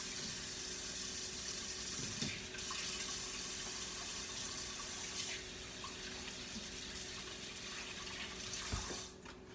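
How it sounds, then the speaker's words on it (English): Tap water runs steadily into a kitchen sink while hands are washed, a soft continuous hiss and splash heard alone at low volume, with a few brief clatters. "So, let me wash my hands."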